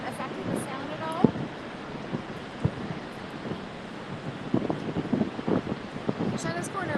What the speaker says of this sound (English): you can get a really up close and personal view of the thundering water that's over here